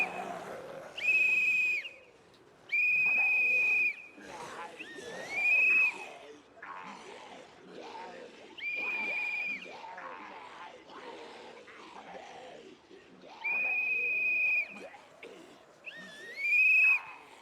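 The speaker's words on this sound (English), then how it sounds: "I've got a whistle. We'll do the whistle for a bit too." A whistle is blown in about seven sharp, shrill blasts, each lasting around a second with short gaps between, loud and close, while people talk in the gaps.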